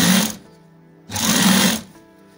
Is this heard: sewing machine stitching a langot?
yes